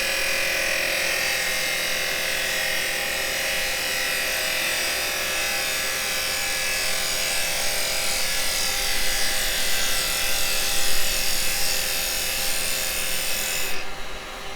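Carbide chisel shaving spinning pine on a wood lathe while turning a plant pot, a continuous close hiss and rasp of slow push cuts, steady throughout with a brief brightening at the end.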